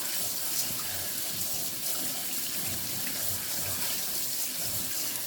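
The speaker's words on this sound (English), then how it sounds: "Okay, so now you're just going to rinse them." Tap water runs steadily into a jar of lentils being rinsed, a continuous hissing splash at moderate level with no voices.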